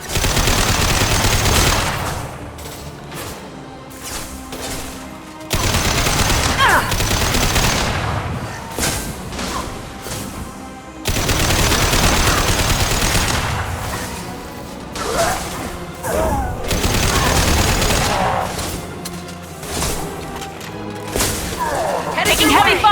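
Heavy automatic gunfire crackles through a firefight in Mass Effect 2 Legendary Edition during the Jack: Subject Zero mission. Loud bursts come in long stretches with short pauses, mixed with impacts and whooshes while combat voices call out over the shooting.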